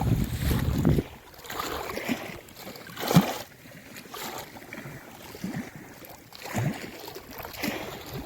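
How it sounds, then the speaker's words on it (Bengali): Water laps and sloshes in uneven surges while a light wind brushes the microphone, with no one speaking. "আকাশে মেঘ হালকা হাওয়া হচ্ছে নদীতে ঢেউও হচ্ছে"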